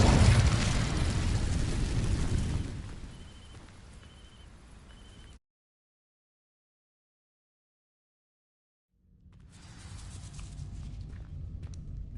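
The Incendio spell in Hogwarts Legacy sets dry vines ablaze with a loud, close whooshing burst of fire that fades into a crackling tail, cuts to silence, then gives way to a low rumbling ambience.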